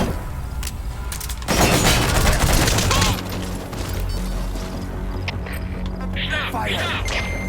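Loud gunfire erupts in Metal Gear Solid V, a dense burst of rapid shots and crashes dominating the middle, followed by scattered impacts, shouted game voices and a player talking over it.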